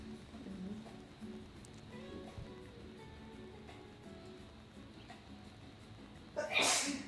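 A single sharp sneeze bursts out near the end, loud and close, after a stretch of quiet room tone with faint talk in the background.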